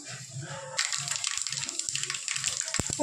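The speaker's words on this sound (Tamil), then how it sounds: "கடுகு வெந்தயம் ஜீரகம் போட்டு தவச்சிக்கோங்க கடுகு பொரியட்டும்" Mustard, fenugreek and cumin seeds hit hot oil and break into a bright, crackling sizzle with scattered pops, while a voice talks underneath.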